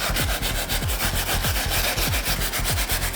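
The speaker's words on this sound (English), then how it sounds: "And as I'm scrubbing the shoe," Brisk back-and-forth brush scrubbing on a mesh knit sneaker under heavy pressure, a fast even rhythm of rough scratchy strokes, close and loud throughout.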